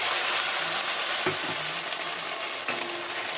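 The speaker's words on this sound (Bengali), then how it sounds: "দিয়ে দিয়ে মশলাটা করে রেখেছিল আদা জিরে আর মৌরি সেটা দিয়ে দেবো" A paste of ginger, cumin and fennel sizzles steadily in hot oil, with a couple of sharp stirring scrapes against the pan cutting through the constant close frying hiss.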